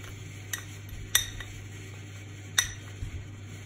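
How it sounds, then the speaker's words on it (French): Spoon clinks against a bowl while turmeric, salt, pepper, garlic and ginger powders are mixed: a few sparse, bright metallic taps over a low steady hum, nothing spoken. "je vais venir mélanger mes épices"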